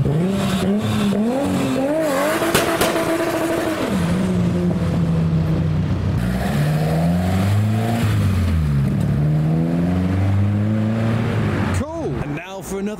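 An engine-swapped Datsun with a Nissan RB and a Honda-powered Toyota drive away from a JDM car show together, their engines revving loud and close in rising and falling sweeps, with a sharp burst near the end.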